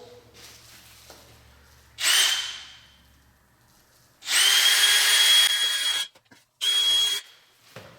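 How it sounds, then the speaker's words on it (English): Power drill boring holes for silver knobs on an RV skylight cover, three separate bursts of whining drilling, each one to two seconds long, close and loud, with quiet pauses between. "So I just need to drill a couple holes."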